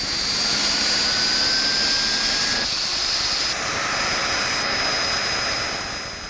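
Alpha Jet military jet aircraft, robust low-level trainer, roaring steadily with a broad engine rush and high whine, loud and continuous throughout, slightly fading at the end.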